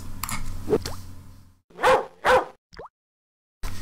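A dog in the video game Hopkins FBI gives two loud, close barks in quick succession, followed by a short yip, with game sounds before and a brief silence after.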